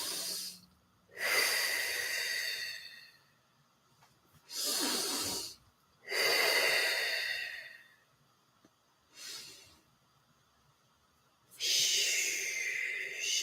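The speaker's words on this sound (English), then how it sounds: "I got to take a deep breath" A person takes deep, slow breaths in and out, each a soft, close airy rush separated by quiet pauses, five or so breaths in all with no talk.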